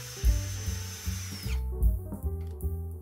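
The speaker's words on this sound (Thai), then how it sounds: "ก็สามารถเจาะไม้หนาๆเกือบ5เซนติเมตรได้สบายมากครับ" An OSUKA cordless drill bores through thick wood nearly 5 cm deep, its motor whining steadily before biting down into a loud, grinding labored drone with uneven surges of load.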